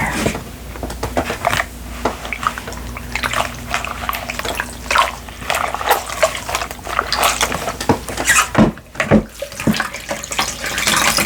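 Water splashes and drips in a basin while a face mask is washed off, busy and close, with sloshing and trickling throughout and no talking.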